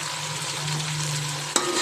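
Chicken frying in ghee for a degi-style chicken qorma, with a steady close sizzle and a sharp clatter of stirring near the end.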